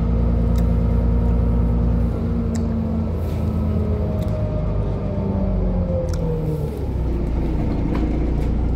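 Inside a moving bus, the engine gives a low, steady rumble with a shifting drone that rises and falls while the vehicle travels, punctuated by occasional light rattles and clicks.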